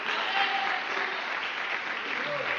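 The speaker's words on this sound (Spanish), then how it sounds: "ese aplauso fuerte al Señor si usted puede" A church congregation applauds loudly and steadily, a dense wash of clapping that fills the room from start to finish.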